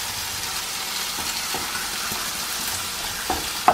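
Bubble and squeak fries until crisp in a pan, giving a steady close sizzle and crackle with a few light scrapes and a small clink near the end.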